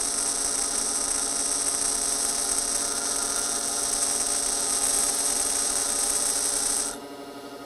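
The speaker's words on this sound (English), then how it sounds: "I'm actually going to grind both of those at the same time up against the wheel." A grinding wheel runs against a high carbon steel lathe tool, giving a steady, close, high-pitched whine with a low hum beneath it that holds for about seven seconds, then drops away sharply.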